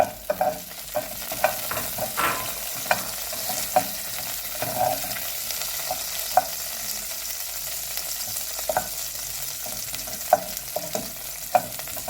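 About 100 grams of beef suet melts, sizzling and crackling steadily in a pot, with scattered sharp pops and occasional stirring knocks over a constant hiss.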